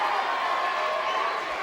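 Wrestling arena crowd at a WCW Saturday Night tag-team match, a steady loud roar of cheering voices with no break.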